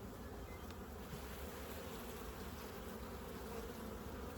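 Honeybees buzz continuously in a large open hive, a dense close-up drone that holds steady throughout with no talking.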